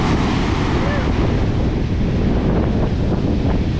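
Ocean shore break at a surf beach: loud, continuous crashing and rushing surf close by, mixed with heavy wind buffeting the microphone.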